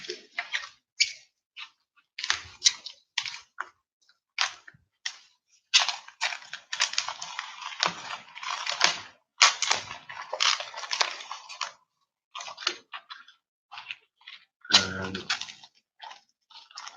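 A bubble-wrapped package of colour pencils is handled and squeezed, giving irregular bursts of crinkling, crackling plastic with short pauses between, close and fairly quiet.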